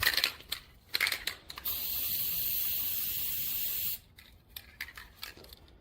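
A spray can hisses in one sustained burst of about two seconds, framed by short rattling spritzes and faint handling noises.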